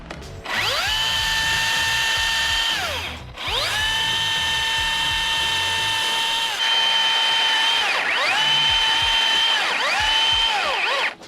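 A ratchet mechanism is cranked to tension a line during backyard locust tree removal, giving long whining mechanical runs with a shifting pitch that pause briefly and then resume, loud and close with no speech.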